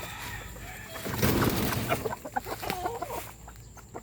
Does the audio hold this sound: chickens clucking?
yes